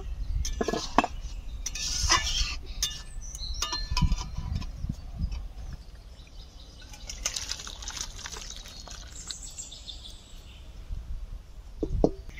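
A metal lid lifted off a pot of homemade kohlrabi curry and the curry ladled out, with scattered clinks and scrapes of a spoon against the pot and soft wet drips and trickles, close by.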